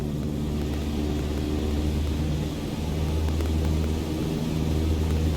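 An airplane engine at full throttle during a climb in MS Flight Simulator, a steady, loud droning roar with a constant engine hum that holds unbroken throughout, with no voices.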